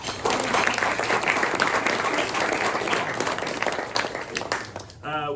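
A room of luncheon guests at a sports press event gives a sustained round of applause for the sponsor, dense and even, fading slightly before a voice begins speaking at the end.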